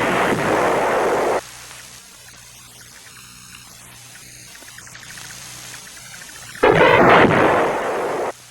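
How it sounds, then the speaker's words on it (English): Heavy North Vietnamese artillery shells strike Khe Sanh and Marine outposts during the Vietnam War: two loud, rumbling blasts, one at the start and one near the end, separated by a quieter stretch of low background noise. "The North Vietnamese artillery hitting Khe Sanh and the Marine outposts was all indirect fire."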